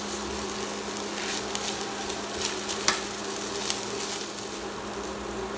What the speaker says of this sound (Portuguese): vou colocar a carne seca aqui. E dar uma refogadinha aqui também nela.